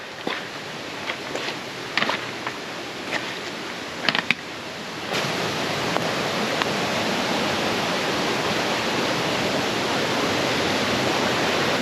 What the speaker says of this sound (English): Okay, I can see the river.